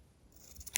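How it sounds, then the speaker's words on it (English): Scissors snip through yellow yarn during crochet work, a single short quiet cut close by over a faint hiss, with no voices. "You can go ahead and cut off the yellow yarn."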